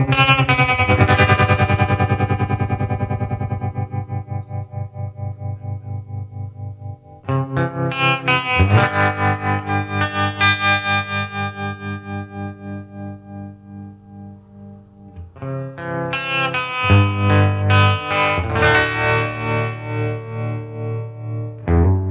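5-watt guitar amp with tremolo and reverb playing guitar chords that pulse rhythmically in volume, with ringing reverb tails, three strummed passages separated by decaying sustains, loud and alone.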